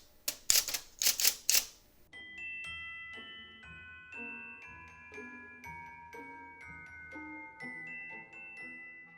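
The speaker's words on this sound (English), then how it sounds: "So I thought today I'd use my IBM Selectric and type on some tags for Christmas presents." An IBM Selectric electric typewriter types Christmas gift tags: a brief burst of loud keystrikes, then a steady run of rapid clacks and carriage sounds layered with ringing, tinkling chime tones.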